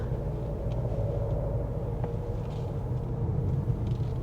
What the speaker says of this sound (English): The engine does produce a small noise here and there.